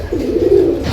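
A pair of Chinese kamagar pigeons gives a steady, low cooing call, close and fairly loud, over a constant background murmur.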